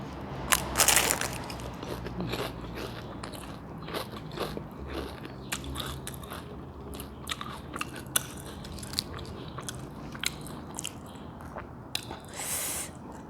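Crispy homemade Thai spring rolls being bitten and chewed close up, with a loud crunch at the start followed by steady, irregular crackling chews.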